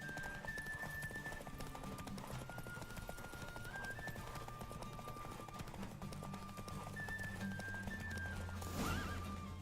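Roach the horse gallops in a race in the video game The Witcher 3, steady hoofbeats pounding throughout with a neigh near the end, over game music and ambience.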